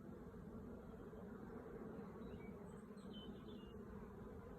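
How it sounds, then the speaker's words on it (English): Honeybees buzz steadily around a hive as they come and go, a continuous dense hum, close and even throughout. "Bees coming and going quite happily"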